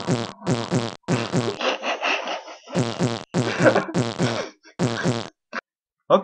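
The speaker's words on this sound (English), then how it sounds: "now that I've discovered the game's fart button" A cartoonish fart sound effect from the video game GTA1 plays loudly several times in a row. The blasts are of varying length, with brief gaps between them.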